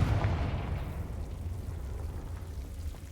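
A Confringo blasting spell bursts in Hogwarts Legacy, a loud low boom at the start that rolls off into a fading rumble over about three seconds, with no talking.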